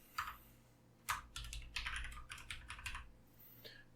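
Keystrokes on a computer keyboard while a password is entered during an ESXi 8 installation: a quick burst of close, crisp clicks with short pauses between them, ending in a single final keypress.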